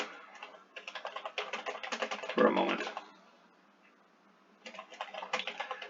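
Rapid typing on a keyboard, bursts of dense clicking keystrokes interrupted by a short pause before resuming, with a narrating voice over it.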